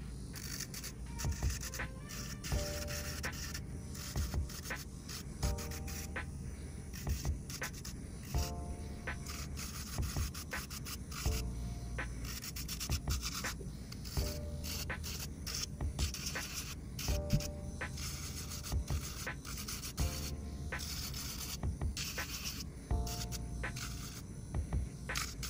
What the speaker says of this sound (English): Next, I have my fine grit sanding band, and I'm just going to file over the surface of the nails.